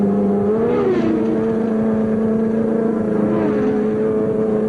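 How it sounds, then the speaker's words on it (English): A 1983 Formula One race car, the race leader's, pulls into the pits, its engine a steady loud droning whine with a slight pitch dip, heard alone and up close. "Race leader into the pits, Nelson Piquet."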